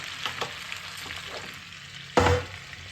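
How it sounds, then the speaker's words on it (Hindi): Spices briefly frying in hot oil on a gas stove while an amla and olive pickle is made, a steady crackling sizzle with a sudden louder burst of spitting near the end, close and without talk. "दो सेकंड के लिए बस मैंने इसको फ्राई किया है"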